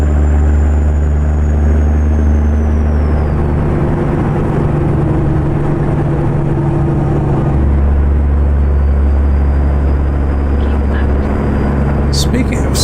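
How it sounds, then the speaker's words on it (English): A truck cruising in 18th gear gives a steady, busy low engine drone that runs loud and unbroken throughout, with only slight shifts in tone. "Engine starts to sound busy to me."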